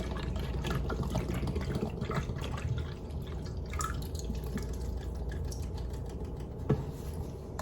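Liquid baby formula pours into a feeding bottle, making a soft trickling and dripping stream, quiet and close, with a small clink near the end.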